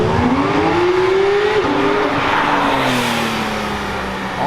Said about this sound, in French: Il y a une McLaren là qui passe.